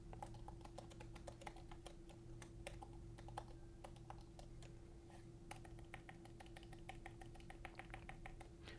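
Rapid, quiet typing on a Mokibo trackpad keyboard for the iPad Pro, a continuous run of light key clicks in a faint indoor setting with a low steady hum.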